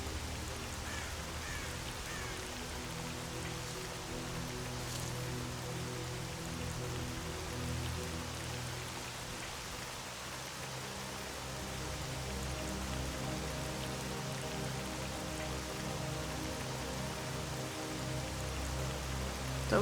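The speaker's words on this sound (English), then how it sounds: "It's always raining over here." In the video game S.T.A.L.K.E.R.: Call of Pripyat, steady rain hisses continuously throughout, with a low droning hum and faint tonal notes running beneath it.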